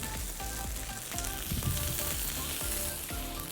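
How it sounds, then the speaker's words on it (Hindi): Soya chaap hits oil on a hot tawa and sizzles steadily, a bright crackling hiss close up, with a few clinks and stirring knocks and no voices. "गर्मा गर्म तवे के ऊपर हम डालेंगे सोया चाप"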